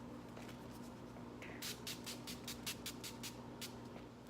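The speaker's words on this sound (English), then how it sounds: "I'm using the Urban Decay All Nighter Setting Spray to set everything." Urban Decay All Nighter setting spray pumped in a rapid series of about ten short, soft spritzes, faint and close against a steady background hum.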